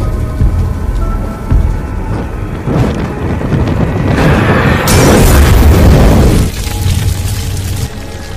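A Molotov cocktail made from an alcohol bottle explodes in a film scene, giving a loud, rumbling boom that swells and roars for a couple of seconds over a dense, noisy background.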